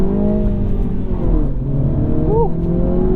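A 2022 Mini Cooper S two-door hardtop rated at 189 horsepower accelerates, its engine droning loud and steady from inside the cabin with a rising tone near the end.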